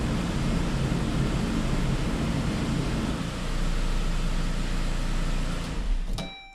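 Steady blowing hum of the HVAC fan in a Saab 9-5, with a faint rubbing noise from something touching the fan, continuous until it cuts off near the end.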